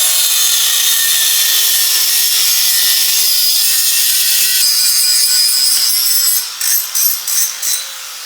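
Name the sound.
sawing off an intake nipple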